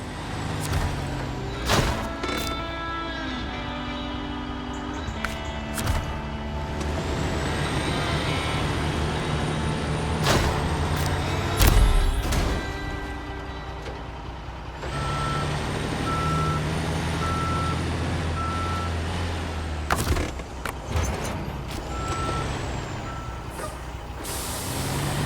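Heavy truck in SnowRunner reversing while hauling a fuel trailer: a steady engine drone with repeated reversing beeps, several sharp air-brake hisses and clunks, and a rising motor strain partway through.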